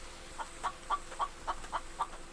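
Chicken clucking in the survival game The Infected, a string of seven short, evenly spaced clucks at moderate distance over a steady low game ambience, with no talk.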